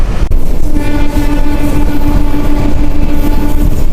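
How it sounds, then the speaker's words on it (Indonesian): A train rumbles past loudly and close near Bundaran Waru, Surabaya, with a steady sustained tone and heavy rolling noise throughout, no talking. "Ada kereta api teman-teman."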